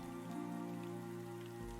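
Steady rain in the video game Wargroove patters continuously over a low droning musical backdrop, with even loudness throughout.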